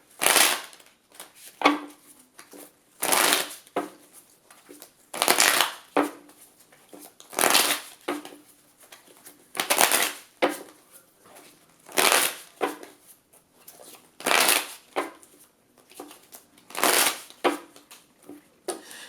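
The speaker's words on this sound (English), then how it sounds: "I'm going to shuffle my tarot to ask a couple of questions about Marlo." Tarot cards shuffled in repeated bursts, roughly every couple of seconds, a crisp riffling flutter close up with quiet gaps between.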